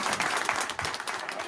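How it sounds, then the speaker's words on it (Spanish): A brief burst of clapping from a small crowd at the opening of Casa Rural Juan de Austria in Cuacos de Yuste, Cáceres, fairly close and lively, with a few sharper individual claps. "un aplauso para este Ángel"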